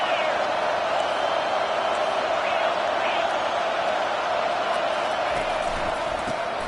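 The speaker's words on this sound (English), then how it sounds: "It is getting loud as this crowd tries to help its defense." Stadium crowd in a Madden football video game, rising to support the defense: a dense, steady roar that holds at one level throughout, with no breaks.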